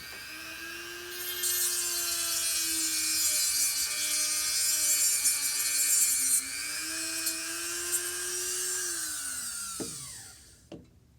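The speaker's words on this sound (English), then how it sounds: "One more time, Dremel." A Dremel rotary tool cuts through a plastic part from a Hexbug BattleBots Whiplash kit, a steady high-pitched whine with a sustained grinding rasp lasting about ten seconds before winding down, with no talking.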